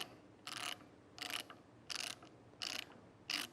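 A Wurth 360 turning handle ratchet clicks as it undoes a nut, with five short, evenly spaced bursts of ratcheting about 0.7 seconds apart, close up and crisp against a quiet background.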